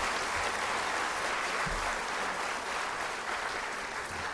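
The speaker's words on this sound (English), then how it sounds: "A big applause for those that are joining us over the network." An audience at a distance-learning event at Texas A&M University applauds continuously, a steady wash of clapping that fills the whole stretch.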